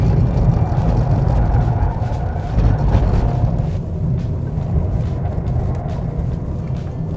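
A Volkswagen Golf TDI diesel drives in sport mode along winding roads, a steady engine drone and road and tire rumble heard from inside the cabin, swelling slightly midway and then easing.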